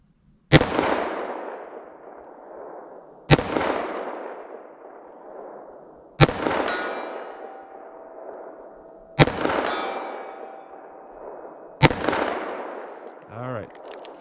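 .38 Special Underwood FMJ flat point rounds fired from a short barrel: five sharp, loud shots about three seconds apart, each with a ringing metallic clang and a long fading tail.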